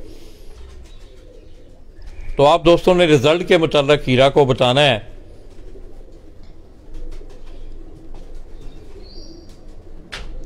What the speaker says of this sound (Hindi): ये वो शफी भट्ट साहब वाले ये कबूतर हैं जो खान साहब आपको दिखा रहे हैं।